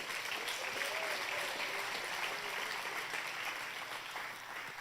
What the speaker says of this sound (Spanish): Dale un aplauso al Dios grande.